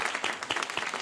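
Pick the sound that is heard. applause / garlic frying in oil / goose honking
applause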